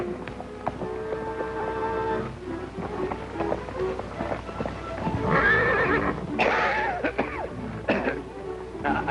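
A horse neighs and whinnies loudly in an old 1937 Western range setting, with hooves clip-clopping between the calls, the whinnies rising in two strong bursts partway through.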